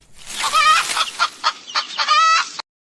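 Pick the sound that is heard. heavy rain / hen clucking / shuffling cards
hen clucking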